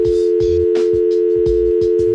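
Telephone dial tone after a caller hangs up: one steady, loud, unbroken tone throughout, with faint low thumps beneath it.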